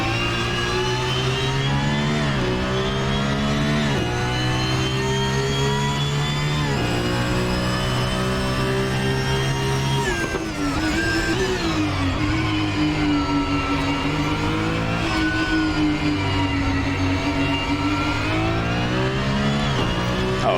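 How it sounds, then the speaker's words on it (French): A Porsche 992 GT3 Cup race car engine revs and climbs through gears continuously, loud and close, its pitch rising and dropping with each shift and lift. "je suis pas fan du son du moteur"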